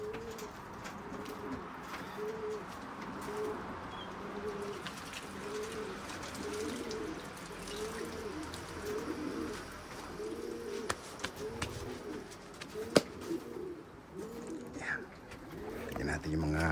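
Young racing pigeons coo steadily in a loft, many birds giving a continuous rhythmic chorus of rolling coos close by.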